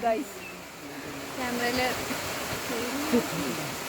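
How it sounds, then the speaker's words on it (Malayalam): Heavy rain falls in a bamboo forest as a steady broadband wash, close and continuous, with people talking over it throughout. "നല്ല മഴ പെയ്തു. നല്ല മഴയാണ്."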